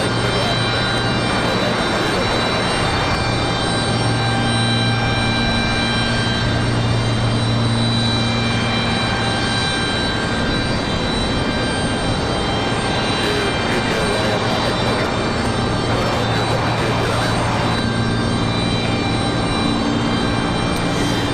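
A KC-130 military aircraft's engines give a loud, steady, broadband roar with a low droning tone throughout, heard outdoors at an airport on a windy day.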